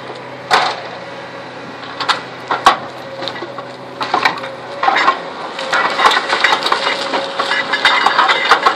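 A forestry machine stripping a pine log, loud close cracking, crunching and splintering wood with sharp knocks over a low engine hum, growing denser and busier toward the end.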